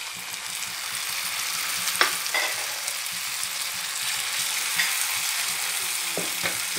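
Tomatoes frying with bottle gourd in a pan for bharta give a constant close sizzle, with a few sharp spatula knocks scattered through and no voices.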